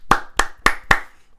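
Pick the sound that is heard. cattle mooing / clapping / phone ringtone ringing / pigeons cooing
clapping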